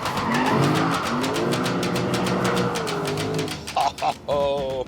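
A BMW M4 or Lexus RC-F performs a drift test, its tyres squealing in a long sustained screech over the engine's roar, then breaking into short bursts as the car straightens.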